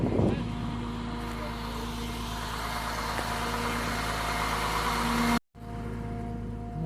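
A vehicle engine idles steadily and close by, holding a constant low rumble while turning around in a driveway, with a short dropout near the end before the idle resumes.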